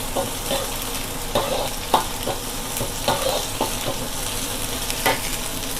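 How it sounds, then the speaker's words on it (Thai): Red curry paste with shrimp stir-fried in a pan: a continuous sizzle under repeated sharp spatula scrapes and knocks at an uneven rhythm, close and loud, with no talking. "ผัดให้หอมอีกนิดนึงค่ะ"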